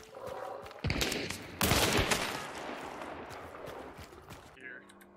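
Gunfire from Hunt: Showdown cracks out in loud bursts over a rumbling game background, with a voice speaking over the shots.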